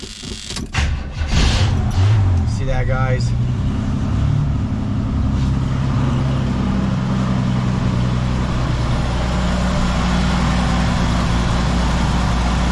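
An old 1976 Chevrolet Nova engine cranks and catches, then settles into a steady, low rumbling idle close by; someone speaks briefly as it starts.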